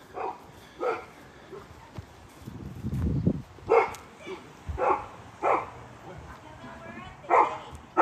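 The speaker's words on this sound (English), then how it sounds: "There's a lot of barking going on." Dog barks and yips come in short bursts spread across the clip, with a low rumbling noise partway through.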